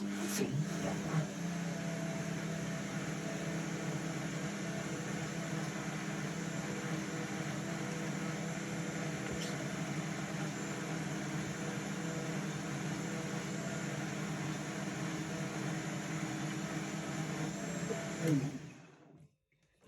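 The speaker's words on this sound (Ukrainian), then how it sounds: "І так збиваємо." A blender whips a Herbalife protein shake with a steady, loud motor whir and hum lasting nearly twenty seconds, then winds down and stops abruptly at the end, with no talk.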